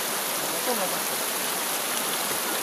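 River and waterfall in Pangasinan pour steadily in a broad, even rush of water that fills the scene at close range, with no break in the flow.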